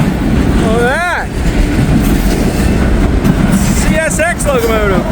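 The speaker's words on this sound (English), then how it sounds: "CSX locomotive." A CSX locomotive-hauled freight train rolls past trackside at close range, a loud, steady rumble of wheels and railcars filling the whole span, with rising whistle-like squeals and voices talking over the passing train.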